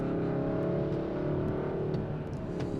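A 2022 Kia K5 GT's turbocharged four-cylinder accelerating hard on a makeshift track in automatic shifting, a loud, steady engine drone with a throaty hum that holds throughout.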